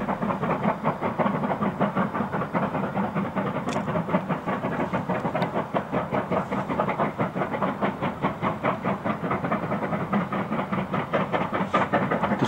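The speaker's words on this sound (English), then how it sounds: "back of the train is just coming onto the viaduct" A long train in China rolls across a viaduct, its wheels beating a continuous rapid clickety-clack rhythm over the rail joints, loud and sustained with a rumbling undertone throughout.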